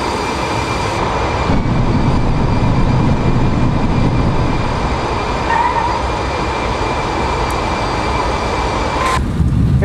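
Steady jet engine roar of a PMDG 737-900ER airliner in the flight simulator MSFS 2024, a broad continuous rumble with faint tonal whine, loud and unbroken for the whole stretch with no talking.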